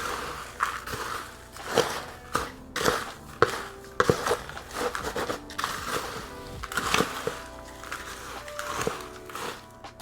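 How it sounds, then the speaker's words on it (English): Peat-free potting mix for repotting a large Hoya obovata being stirred and tossed by hand, giving close, irregular crunchy rustles and scrapes of coarse bark and soil particles in uneven bursts. "I'm going to give this a good mix."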